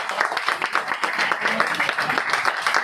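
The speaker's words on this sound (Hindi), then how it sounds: "चलो चलो ताली बजा दो यार," A group clapping and applauding at the opening of a new Jawed Habib salon branch in Raxaul, steady dense applause throughout with voices mixed in.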